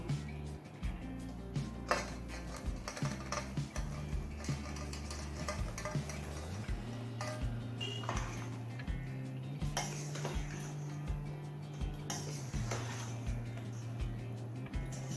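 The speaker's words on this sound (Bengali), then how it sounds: "বড় বড় দইয়ের সাথে নেড়ে মিশিয়ে নিচ্ছি" Fried lentil balls for dahi phulki are stirred into yogurt in a bowl, giving soft repeated scraping and clinking of a utensil against the dish at a steady pace under a low hum, quiet and close.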